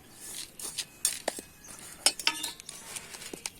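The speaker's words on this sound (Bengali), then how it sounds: "সিন্ডার দেওয়া হচ্ছে। দিচ্ছি আর একটু ডাস্ট আছে" Cinder grit being poured and scraped into a pot while potting a new rose, a series of close, crisp gritty clinks and rattles in irregular bursts with no talk.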